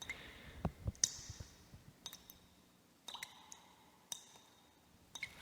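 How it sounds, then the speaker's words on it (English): Water dripping and trickling into a limestone sinkhole in a forest, heard as sharp, irregular drips and clicks at close range with quiet gaps between them. "This other sinkhole had a much larger volume of water running into it"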